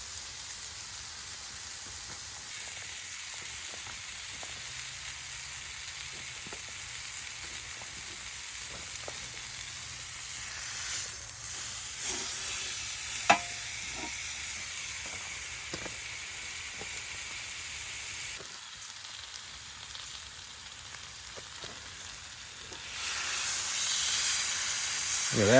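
Tomahawk steak searing in a hot skillet, a continuous close hiss and sizzle with occasional crackles and pops, growing louder toward the end.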